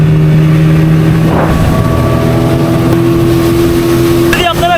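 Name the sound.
speedboat starting and leaving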